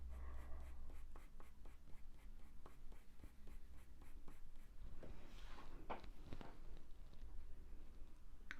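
A pencil draws on paper, sketching a Cavalier King Charles spaniel, with steady repeated strokes that scratch close and clear for several seconds without speech.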